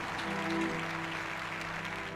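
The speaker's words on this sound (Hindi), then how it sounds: "जोर से ताली बजा, हालेलुया, प्रभु यीशु की तारीफ हो" A church congregation clapping together at a healing service, a steady wash of applause under sustained musical tones.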